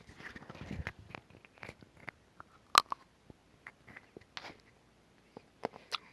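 Someone eats white chocolate topped with milk chocolate, with close, soft bites and scattered sticky chewing and mouth clicks, plus one sharp crack near the middle, against a quiet background.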